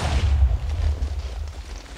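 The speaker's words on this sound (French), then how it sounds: "il a explosé" Explosion in a Minecraft pirate battle, a deep low boom with a rumbling tail that fades over about two seconds, moderately loud with no talk over it.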